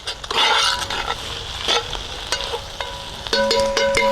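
Breakfast food stirred in a pan over a campfire on a mountain man grill, with loud close scraping and sizzling, a few metallic clinks and knocks of the utensil against the pan near the end.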